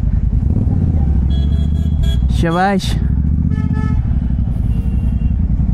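A Royal Enfield GT 650 motorcycle is ridden with a steady, loud low engine drone throughout, and a brief spoken exclamation rises over it midway.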